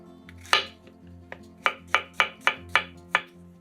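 Knife slicing 250 grams of champignon mushrooms into thin slices on a board, with about seven crisp, evenly spaced chops that follow a couple of softer opening cuts.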